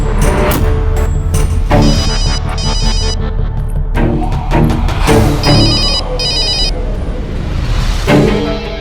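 A mobile phone rings with a repeating electronic ringtone in short bursts, loud and close, over dramatic background music with occasional thuds.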